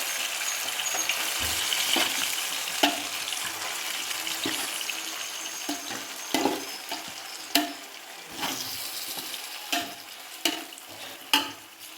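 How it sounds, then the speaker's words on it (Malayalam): Chicken fries in hot oil, sizzling and crackling steadily, broken by several sharp spatters and clinks of stirring toward the end, no voices. "അങ്ങനെ നല്ല ചൂട് എണ്ണയിലേക്ക് നമ്മൾ ചിക്കൻ ഇട്ട് കൊടുക്കാണ്"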